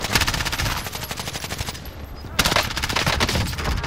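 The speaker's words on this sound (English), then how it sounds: "Another shot." Rapid automatic gunshots in Call of Duty: Warzone, a fast rattling burst that stops briefly and then resumes just as loud, close and sharp.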